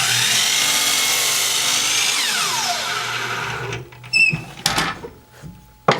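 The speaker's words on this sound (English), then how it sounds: "I'm going to use my miter saw to cut the legs." A miter saw cuts wooden legs for a children's craft table, a loud whining blade that drops in pitch as it bites through the wood, then winds down, followed by a few light knocks and clatters.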